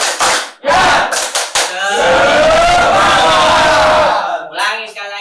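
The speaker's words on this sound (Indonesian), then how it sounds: "Ya, tepuk semangat." A classroom group performs the 'tepuk semangat' clapping chant: sharp rhythmic claps in quick bursts, then loud shouted voices chanting together in unison, ending with a few more claps.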